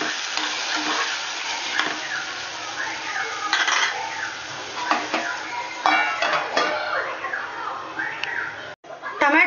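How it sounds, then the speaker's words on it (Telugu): Tomatoes with tamarind for chutney cook in a pan, giving a close, steady sizzle broken by stirring scrapes and clinks of a utensil against the pan, while a person talks over it. "కొంచెం చింతపండు వేసి ఒక 5 నిమిషాలు దీన్ని మనం మగ్గనివ్వాలి."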